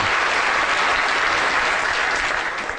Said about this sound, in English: Another big round of applause for Dominic.